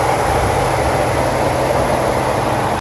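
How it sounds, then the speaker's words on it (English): A pickup truck's 2.7-liter V6 EcoBoost engine idles with a steady, quiet low hum, close by and unchanging, with no voices over it. "Very quiet engine."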